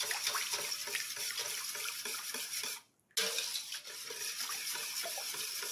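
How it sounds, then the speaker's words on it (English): Sheep tallow soap mixture whisked in a bowl, giving a steady, faint scraping and sloshing swish with one brief pause partway through and no talking. "And I'm going to start whisking."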